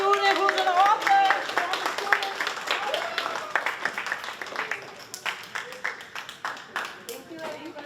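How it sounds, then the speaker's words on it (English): A town hall audience claps for a student author at an East Ward literacy event, a dense patter of hands that starts strong and slowly thins out, with voices talking over the clapping. "Let's clap it up for this North student who's an author"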